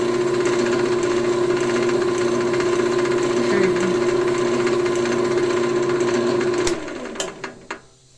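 A wooden pen blank spins on a lathe while pressed with a handful of wood shavings, giving a steady loud hum and rubbing whir that runs evenly, then winds down with a few knocks near the end.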